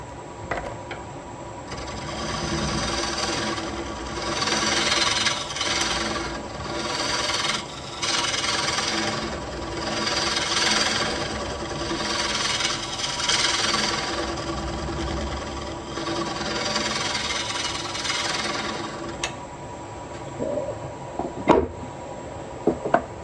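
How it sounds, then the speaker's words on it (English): A scraper rasps across the recess of a wooden bowl spinning on a lathe, a loud, steady scraping and rubbing that runs almost unbroken, with a few sharp knocks toward the end. "Now we're going to flatten that out. We can use a scraper for this."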